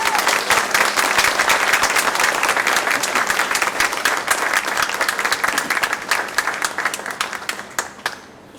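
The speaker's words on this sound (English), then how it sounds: "Yes, I think a round of applause is appropriate." An audience applauds at a Maryland award ceremony honoring a fallen police officer, with loud continuous clapping that holds steady before thinning into scattered claps and stopping near the end.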